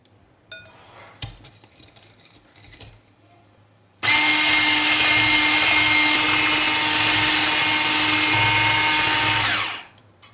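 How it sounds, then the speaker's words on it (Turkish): A steady, loud electric mixer motor whine starts abruptly after some quiet clatter, whisking eggs and sugar for several seconds, then winds down and stops. "Şimdi bunları mikserle çırpacağım."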